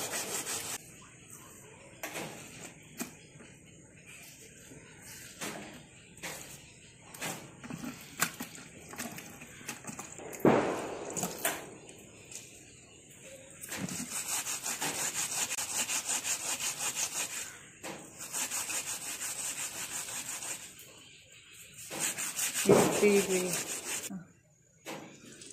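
A scrubber is rubbed hard back and forth during a homemade hair care preparation, making loud, close, rasping strokes in long bursts separated by brief pauses.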